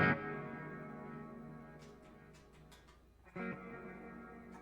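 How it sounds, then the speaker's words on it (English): An electric guitar played through a phaser/flanger effect on a stereo pedalboard rig rings out in sustained, swirling chords with a long reverb tail, a second strummed chord swelling in near the end, with no talking. "So I got the phaser flanger on this for cool blues tones."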